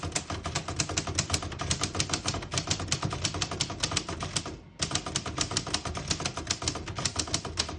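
A 1938 Royal Model U portable typewriter typing a sentence, with rapid, loud key strikes in an uneven rhythm and a brief pause partway through.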